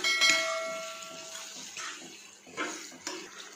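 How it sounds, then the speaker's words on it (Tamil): Water is poured into a cooking pot holding tomato and salt for a village-style goat offal dish, a steady splashing gush with no one speaking. "நம்ம இப்போ அரை சொம்பு தண்ணி விட்டுக்கலாம்"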